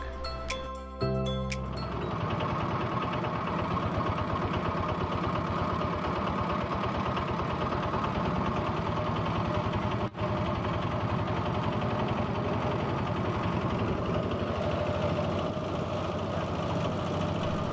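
A boat engine drones steadily as the boat, carrying a motorbike, crosses Chalan Beel in Bangladesh, a continuous loud mid-low hum after a brief rattling start.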